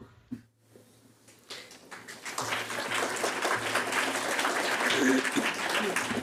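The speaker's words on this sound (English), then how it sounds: "We are clapping for comment." An audience claps at a Board of Education capital budget hearing. After a brief quiet start, sustained crowd clapping builds and holds steady, fairly loud, through the rest.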